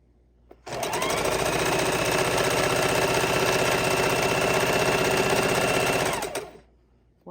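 A sewing machine runs in one continuous, steady burst of about five seconds, stitching 2.5 inch quilt strips together with quarter inch seams, close and loud, with quiet before and after and no talk.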